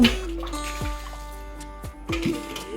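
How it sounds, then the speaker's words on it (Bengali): Water is poured and splashed across a veranda floor during washing, with close, intermittent dripping and splashing over a low steady hum. "এখন জল নিয়ে চলে এসলাম সামনে, এই দিকটা একটু জল ঢেলে দিই"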